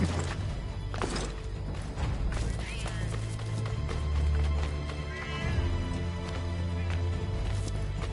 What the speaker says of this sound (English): Get back on the horse, Connor